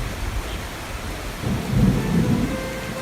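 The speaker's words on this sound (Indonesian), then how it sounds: "Masih saja hujan turun terus-menerus sepanjang hari, setiap hari." Steady rain hisses continuously, and a low rolling rumble of thunder swells in the second half.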